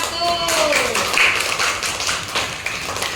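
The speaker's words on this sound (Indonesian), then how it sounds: "Tepuk tangan untuk kelompok 1." A class of schoolchildren claps for group 1, a dense burst of many hands that runs steadily for about three seconds, with a brief voice near the start.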